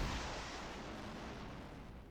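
Airstrike explosions in the video game Highfleet form a dense, rumbling roar that starts at its loudest and then holds as a sustained wash of booming noise, with no talking.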